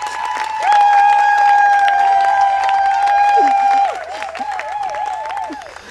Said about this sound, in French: vous puissiez applaudir ces deux demoiselles avant qu'elles commencent à se rentrer dedans